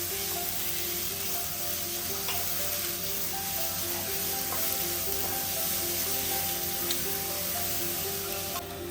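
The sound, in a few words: crab curry ingredients sautéing in pan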